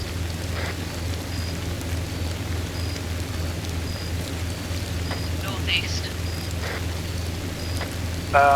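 Constant heavy rain hisses and patters close by, with a low rumble underneath and a brief spoken word partway through.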